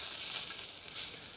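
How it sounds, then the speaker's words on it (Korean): Thick cuts of pork or beef fry in plenty of oil on a hot camping griddle, giving a steady, close, bright sizzle with no talk. "저는 기름을 듬뿍 뿌려가지고 그냥 튀기듯이 그냥 굽습니다"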